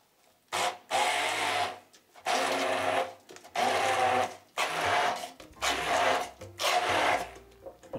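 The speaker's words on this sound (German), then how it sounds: "Und jetzt mit dem Pürierstab schauen wir einfach mal, wie das Ganze funktioniert." A hand blender purees pesto with olive oil in a kitchen, running in five loud bursts of whirring motor noise with short pauses between, close and alone with no voices.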